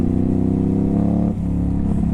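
Ducati Hypermotard 950 SP motorcycle with a tuned exhaust and ECU, its engine loud and close, holding a rough, pulsing rev with a brief dip before climbing again.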